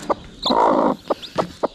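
A free-range village hen sitting over newly hatched chicks gives short, close clucks, one longer drawn-out cluck, and a few faint high cheeps from the chicks.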